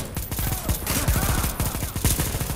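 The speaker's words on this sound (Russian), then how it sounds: "Кто там стреляет?" Automatic gunfire in Garry's Mod on a horror map, a fast steady rattle of shots in quick succession, loud and continuous for a few seconds.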